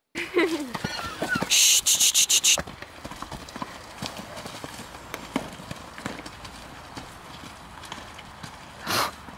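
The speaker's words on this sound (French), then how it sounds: "quand j'ai mis mes chevaux au champ, et ben il se passait ça" Horses in a field clip-clop and thud with their hooves, a loud, busy stretch of close hoofbeats that settles into steadier, softer footfalls, with a brief loud burst near the end.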